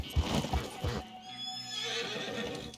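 A horse in Red Dead Redemption snorts and whinnies loudly, with hoofbeats clip-clopping underneath and soft ambient background sound afterward.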